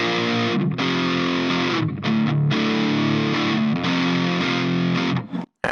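Heavily distorted electric guitar chords through a Bugera G20 Infinium amp's dirty channel ring out loud and sustained, shifting between a few chords with short gaps, then stopping abruptly.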